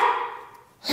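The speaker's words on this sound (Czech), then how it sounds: "ty jsi šíleně zlej pes" A dog gives a single sharp bark at the start, loud and close, followed by a brief fade and the onset of another sound at the end.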